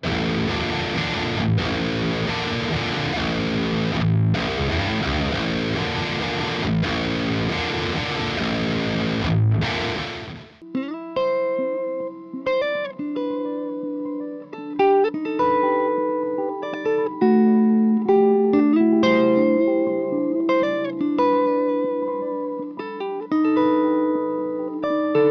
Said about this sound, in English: I'll be sending the overdrive pedal from the Archetype Nolly into the front of the head